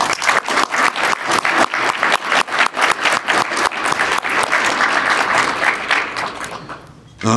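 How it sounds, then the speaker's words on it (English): A live audience at a morning community economic outlook event in Kingston applauds with loud, close, dense clapping that continues for about seven seconds, then tapers off near the end. "A round of applause for everyone here this morning."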